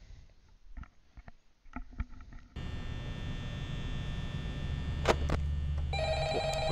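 Telephone ringing inside the Five Nights at Freddy's video game, with short, fairly loud ring bursts arriving late over a steady electrical hum that fills the scene.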